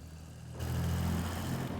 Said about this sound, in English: about this mod, the sound of the tractor, it's really on point